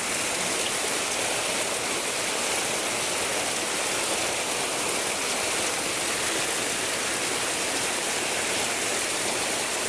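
Typhoon floodwater surges past in heavy rain, a dense, constant rushing roar that stays loud and even throughout, with no voices over it.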